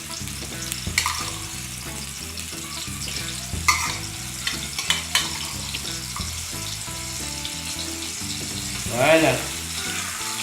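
Small sausages sizzle and crackle steadily in a frying pan, close up, with utensil scrapes and taps as they are pushed apart, and a brief spoken word over the cooking.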